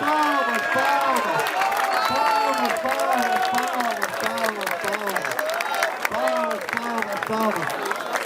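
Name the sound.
crowd applauding and cheering at rap battle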